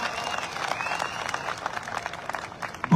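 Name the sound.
audience applause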